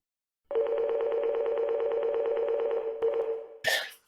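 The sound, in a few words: phone ringing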